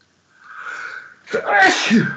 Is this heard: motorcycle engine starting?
no